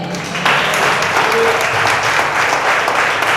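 A large church congregation bursts into loud, dense applause that continues steadily, with faint voices mixed in.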